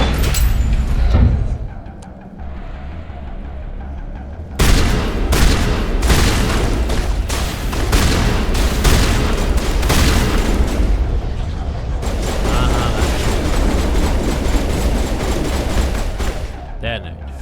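Grenades explode during a Mass Effect 1 Legendary Edition firefight, with loud booms and crackling blasts mixed into sustained gunfire, a brief lull, then more heavy bursts, along with voices.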